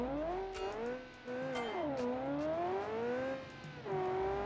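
A 1980s boxy hatchback with front and rear differentials and a manual gearbox accelerates close by, its engine note climbing, dipping between gear changes and climbing again, with no talk.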